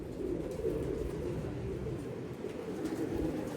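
A pigeon in a loft coos in a low, continuous murmur, steady and fairly close throughout with no other sounds.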